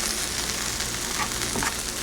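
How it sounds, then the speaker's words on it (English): A pizza grilled cheese sandwich spread with mayonnaise sizzles and crackles steadily on a griddle preheated to 400 degrees, a soft, continuous frying hiss. "Should hear the nice sizzle."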